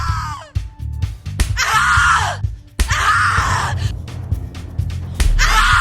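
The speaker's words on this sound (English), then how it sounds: "Scream your lungs out!" In The Cat Lady video game, a woman screams in pain in several loud, ragged bursts with gasps and groans between them.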